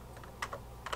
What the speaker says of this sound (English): To play the line, we press spacebar.